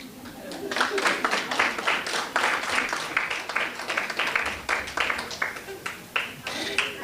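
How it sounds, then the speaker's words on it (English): Audience at a university panel on Africanisation and decolonisation claps to welcome a funder, a steady mid-level patter of hands filling the room for several seconds, with scattered individual claps standing out. "Normally, university people clap louder than that for funders"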